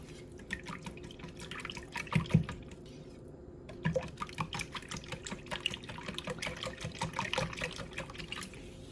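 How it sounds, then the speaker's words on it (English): A whisk beats the egg mixture for French toast in a bowl, producing quick, irregular wet clicks and sloshing taps up close, stopping briefly before resuming in a steadier rhythm. "Now we're going to take our whisk and we're just going to mix it all up."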